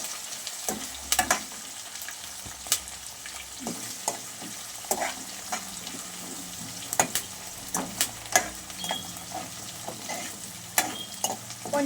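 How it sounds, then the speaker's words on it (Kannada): Curry leaves fry in hot oil for a chicken curry, giving a soft continuous sizzle broken by frequent scraping stir strokes and small spatters, close and fairly quiet with no talking. "ಇವಾಗ ಕರಿಬೇವು ಹಾಕೊಳ್ಳೋಣ. ಎಲ್ಲ ಚೆನ್ನಾಗಿ ಫ್ರೈ ಮಾಡ್ಕೊಬೇಕು."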